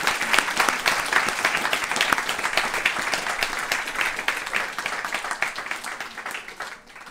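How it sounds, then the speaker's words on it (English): Sustained applause from a devotional retreat audience, dense and steady hand clapping throughout, tapering slightly at the very end. "we should give her a big round of applause for creating it."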